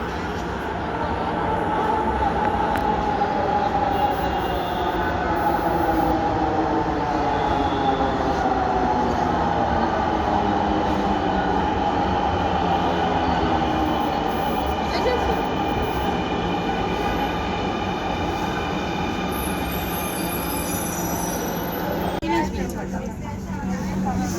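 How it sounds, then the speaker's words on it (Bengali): A metro rail train pulls into a station, its loud sustained rumble and rising motor whine filling the platform, with brief wheel squeal toward the end. "মেট্রো রেল চলে আসলো"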